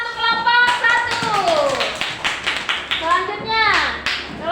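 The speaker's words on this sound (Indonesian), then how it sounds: "Ayo, tepuk tangan untuk kelompok 1." Schoolchildren in a classroom clap for a student group, brisk close clapping mixed with children's voices and chatter throughout.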